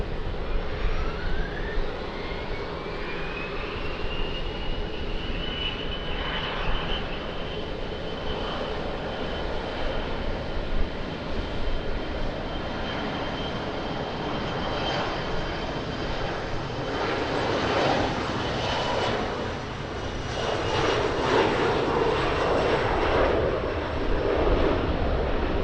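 A jet airliner takes off from runway 20 at Lisbon Airport, a loud, steady roar of jet engines with a rising whine that builds and holds for the full stretch, broadening as it passes and carries on alone without voices.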